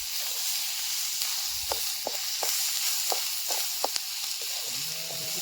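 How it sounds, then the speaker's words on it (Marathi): Onion frying in hot oil for a spicy dried-fish (sukat) onion chutney gives a steady close sizzle, broken by scattered sharp crackles and pops, with a brief scrape of stirring near the end. "मस्त आता आपला कांदा तळून घेतला भाजून चांगला."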